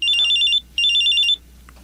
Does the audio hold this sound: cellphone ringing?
yes